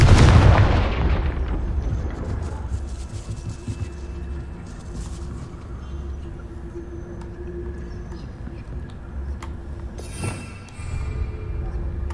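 A Confringo fire spell cast in Hogwarts Legacy bursts with a loud blast at the start, then settles into a low rumbling ambient bed, with a brief sharp crack about ten seconds in.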